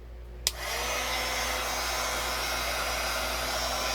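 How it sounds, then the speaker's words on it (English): Old embossing heat gun blasting hot air onto an alcohol ink tumbler, clicking on with a brief snap and then holding a steady, close, loud broadband whoosh with a low motor hum underneath. "I'm just using my old embossing gun"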